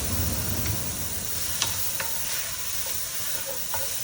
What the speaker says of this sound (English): Now I'm gonna switch from a spatula to a wooden spoon. And I'm gonna start working these onions down.